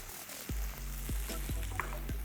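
Peppers sautéing with tomato puree, oregano and chili flakes in a pan, a steady sizzle with a spoon scraping about every half second, close up with no talk.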